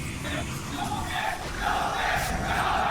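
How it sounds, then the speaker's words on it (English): A large crowd at The International 2016 Dota 2 main event roars and cheers steadily, a broad wash of voices swelling slightly louder toward the end. "as you can hear, the crowd understandably very impressed"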